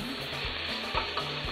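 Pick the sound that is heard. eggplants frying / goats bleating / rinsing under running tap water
eggplants frying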